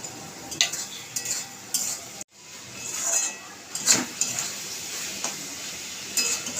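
Spices including turmeric, cumin, coriander and chilli powder fry in a pan while being stirred, with soft sizzling, intermittent metallic scrapes and clinks of the utensil, fairly quiet and close.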